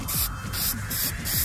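A spray paint can sprays onto interior car trim pieces in several short hissing bursts with brief gaps between them, close and fairly loud.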